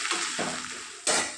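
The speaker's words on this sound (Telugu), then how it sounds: "ఎర్రగా వేగేంత వరకు వేయించుకోవాలి బెండకాయల్ని" Okra (ladies finger) fries in a pan, giving a steady close sizzle with a brief scrape of stirring and a sudden louder burst of hissing near the end.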